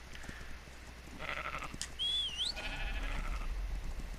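Sheep in ARK: Survival Evolved give a couple of moderate bleats over an outdoor ambience, mixed with a sharp chirping call, with no voices.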